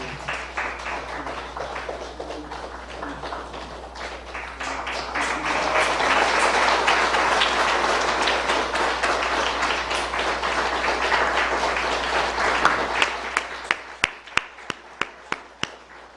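A church congregation at an evening service claps in sustained applause that swells and then thins out into a few separate, distinct claps at the end.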